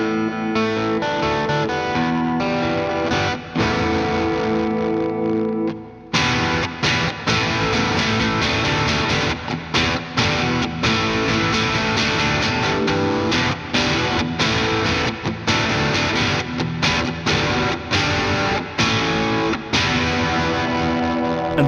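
An electric guitar played through a Hairy Beaver Rangemaster-style boost pedal, loud and driven, with sustained chords followed by choppy, rhythmic strummed riffs and sharp stops, without any voice.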